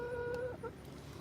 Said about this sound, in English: So we love our chickens